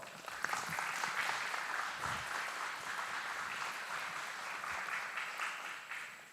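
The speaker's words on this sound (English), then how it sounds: "Please give them a round of applause." A seated crowd at a military aviation brigade graduation ceremony at Fort Eustis applauds, a broad wash of many hands clapping steadily and fairly evenly for about six seconds, tapering slightly at the end.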